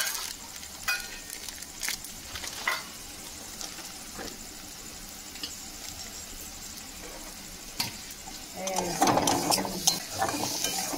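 Maggi masala spice mixture being stirred by hand in a bowl for egg patties, scraping and clinking strokes at irregular intervals, fairly quiet, ending in a louder burst of mixing.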